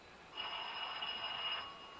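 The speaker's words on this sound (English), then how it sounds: "It's that phone upstairs, Hal." In a radio mystery drama, an old-fashioned telephone rings upstairs. A single continuous buzzing ring lasts just over a second and sounds slightly distant and muffled, with no voices during it.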